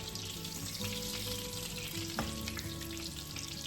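Breaded chicken cutlets frying in a pan just after being flipped, a loud, continuous oily sizzle with crackling and one brief clank of a utensil partway through, no talking.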